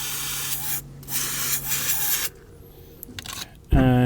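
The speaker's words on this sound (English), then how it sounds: "I'm going to use some brake cleaner, good old spray round." Aerosol brake cleaner hisses in loud sustained bursts onto the rear brakes of a Ford Mondeo mk5 during a brake service, with brief pauses between sprays and a sharper clatter at the end.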